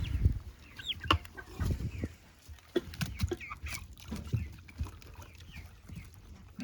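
Chickens clucking on a frozen winter ranch, a series of close, uneven clucks and squawks spread across several seconds with short quieter gaps between bursts and no talk.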